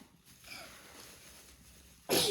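A quiet room hush, then a single sudden child's sneeze bursts out loudly right at the end.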